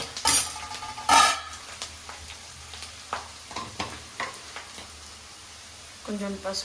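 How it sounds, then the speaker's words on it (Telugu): Onions fry in a pan with a light sizzle, broken by sharp clatters of a utensil against the metal and some stirring scrapes near the start and end, nearby and with no voice. "ఆనియన్స్ ఫ్రై అవుతున్నాయి."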